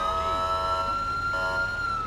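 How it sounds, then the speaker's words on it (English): An ambulance siren in GTA 5 wails steadily and fairly loud for about two seconds, its sustained tone holding with a brief dip midway, over a low engine rumble. "Oh, we got the ambulance pulling up right there."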